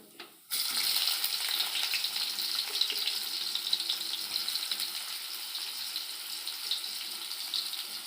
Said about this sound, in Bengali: পেঁয়াজগুলো আমি লাল করে ভেজে নেব